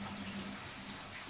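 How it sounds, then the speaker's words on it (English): Vegetables with gritty soil dirt rinsed under a running kitchen sink tap, a short steady rush of water, close and fairly quiet, with no voices. "I'm just going to wash those under the sink"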